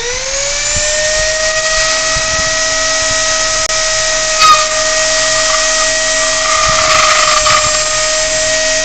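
A Dremel rotary tool spins at 35,000 RPM, drilling into polystyrene plastic: a loud, steady high-pitched motor whine held throughout, with a brief bump of grinding chatter midway.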